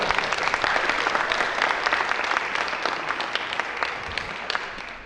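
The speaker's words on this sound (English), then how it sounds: "Let's give Don and Joe a big round of applause" Talent show audience gives a full round of applause, steady and fairly loud throughout, easing slightly toward the close.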